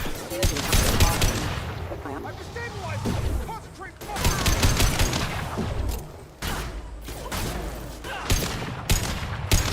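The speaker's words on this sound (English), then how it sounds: "Firing a high impact shot." Bursts of gunfire in Mass Effect 2 come in several loud, sharp volleys separated by brief lulls, with crackling impacts and a voice speaking between shots.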